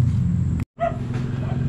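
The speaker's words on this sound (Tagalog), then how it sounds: "Aso lang yung gwardya." A guard dog gives one short yipping bark, close by, after a sudden cut in a loud outdoor recording. Low engine-like rumble and background noise run under it.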